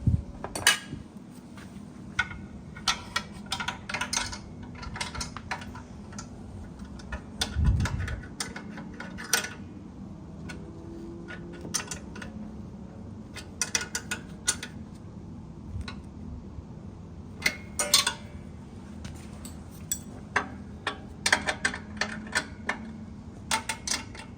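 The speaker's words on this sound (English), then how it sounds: "Now we need to tighten those two bolts back up again." Metal bolts being tightened on an Art2Silkscreen Titan carousel screen printing press, a series of light metallic clicks and ratcheting ticks, close and fairly quiet, scattered irregularly over a low room hum.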